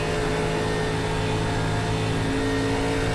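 A race car from the ARCA Menards Series in the iRacing simulation at Texas Motor Speedway roars past with a loud, steady, dense engine drone that fills the whole moment, with no speech over it.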